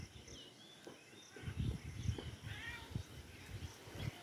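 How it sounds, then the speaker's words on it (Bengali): A household cat at a village home on a cool morning gives a couple of short meows, moderately close, amid faint birdsong and insect chirps. "এইটা আমাদের বাড়ির বিড়াল।"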